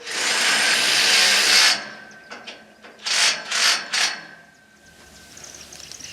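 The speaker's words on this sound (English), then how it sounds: "we're just going to hold the pipe straps in place and put the Tek screws into the pre-drilled holes" A power drill drives Tek screws through metal pipe straps on a high tunnel frame: a sustained whirring burst first, then several short, sharp drilling spurts close by, with no talk.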